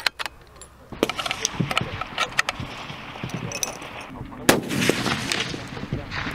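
Sharp shots from a DVL-10 M1 Saboteur sniper rifle crack outdoors, a few loud reports spaced apart amid clattering and handling noises, with a gong target.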